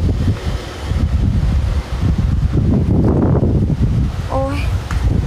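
Wind blows outdoors on a hot, sunny day, a steady loud rush and buffeting against the microphone that swells in the middle, with a brief chirp-like tone near the end.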